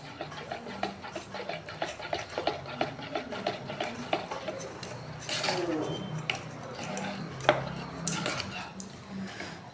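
Paneer cheese being rubbed against a kitchen grater, giving steady rhythmic scraping strokes for the first half, then looser clatters and knocks of utensils, close by with a faint background voice.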